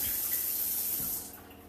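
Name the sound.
washing hands under running tap water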